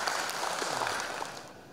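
A brief burst of group clapping at a corporate training session, fairly even and sustained, fading slightly at the end.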